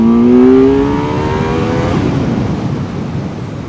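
A Kawasaki Z900 motorcycle accelerating hard, its loud engine note climbing through the revs, then easing into a rushing roar with wind noise.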